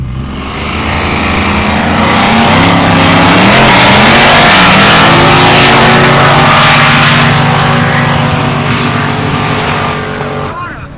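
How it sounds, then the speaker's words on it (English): Powerful JDM cars roll racing at a track during the Chrome NZ 2025 event: a loud, sustained engine roar that swells and then fades as the cars accelerate hard past. "The next event up is roll racing, where the most powerful cars come out to battle"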